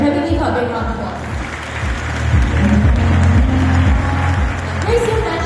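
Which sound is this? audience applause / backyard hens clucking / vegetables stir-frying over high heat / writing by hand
audience applause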